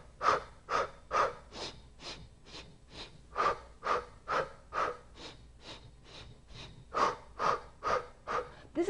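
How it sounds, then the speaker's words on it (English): Rapid yogic breathing with about twenty forceful, rhythmic nasal exhalations at a steady quick tempo, close and fairly soft, with no talking. "This is yogic breathing, and it brings more oxygen than you would imagine in a very, very short period of time."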